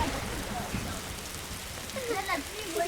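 Rain falls steadily in a video game, a soft even patter throughout, with people talking over it.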